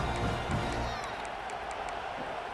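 Roar of a stadium crowd cheering in the EA Sports College Football 26 video game, a loud sustained wash of noise that eases slightly after the first second.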